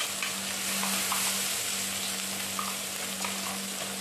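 Raw onion and coconut paste sizzles in a pan while being stirred, a steady broad frying hiss with occasional soft scrapes, joined by a constant low hum.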